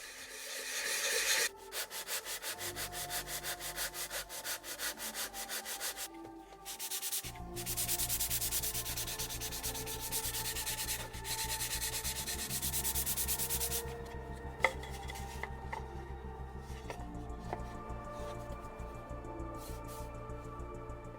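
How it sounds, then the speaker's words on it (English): Sandpaper rubs across the sides and edges of a cheap wooden dice box, a steady close scratchy rasp in repeated strokes that continues with brief pauses and a few light knocks. "let's be sanding down all the sides and edges of this box"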